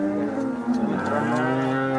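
A cow moos nearby at the Sangola cattle market, a long, loud, low drawn-out call lasting a couple of seconds without pause.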